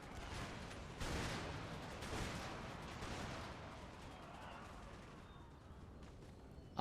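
Massed musket volleys and cannon fire roll through an Empire: Total War battle, a dense continuous rumble with sharper bursts near one and two seconds, steady and fairly loud throughout.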